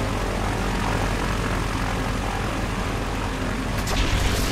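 An airplane's propeller engine in the video game Gears 5 roars as a dense, steady, loud drone, continuous throughout without pause or talking.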